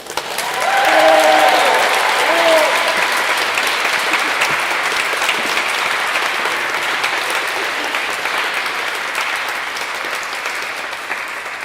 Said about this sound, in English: And with that, the crowd goes wild.